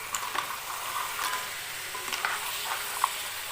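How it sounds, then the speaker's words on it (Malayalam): Crab pieces stirred through sizzling masala in a pan for crab curry, a steady close frying hiss broken by soft scrapes and a sharp clink of the spoon. "ഞണ്ടിട്ടുണ്ട്. എന്നിട്ട് നമുക്ക് ഇളക്കി കൊടുക്കാം."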